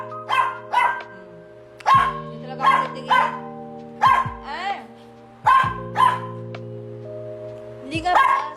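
A dog barks repeatedly in short bursts and yips at close range, spaced irregularly, with a person talking between the barks.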